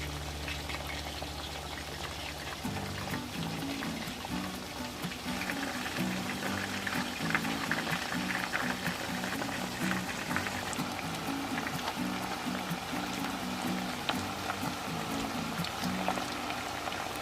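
Chicken wings frying in hot oil, a steady, quiet sizzle and crackle that carries on evenly throughout, with a faint low tonal hum underneath.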